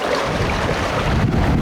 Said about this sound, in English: We're having beautiful downwind sailing of small waves. True winds like 20 to 25, and we have just a pulled out jib.